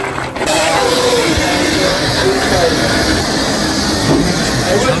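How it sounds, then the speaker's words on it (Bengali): Steam locomotive running forward to couple onto its carriages at Havenstreet station on the Isle of Wight Steam Railway, heard as a steady mechanical hiss and rumble with faint clanks throughout, close by, with people talking in the background. "আর ইঞ্জিন সামনে গিয়ে লেগে যাচ্ছে"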